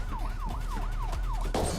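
An ambulance siren wails in a steady rising-and-falling cycle, several sweeps in quick succession, loud and close, then cuts off into a burst of noise.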